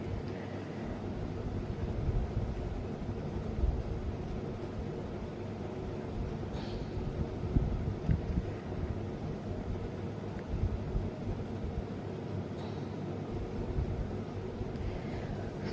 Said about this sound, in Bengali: কি হাওয়া! সমুদ্র ধারে তো একটু হাওয়া হবেই।